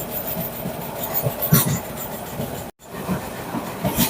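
Steady rumbling and rattling of a Dhaka–Chattogram mail train passing through a station, with grinding wheel noise, a brief dropout midway, no voices.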